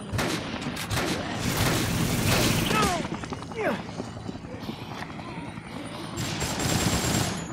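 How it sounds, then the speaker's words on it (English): Machine gun fire in Dead Rising, rapid bursts of shots mixed into busy game noise, with someone talking over the action. "With the machine gun, you kind of have to lead your shots because he's pretty far away."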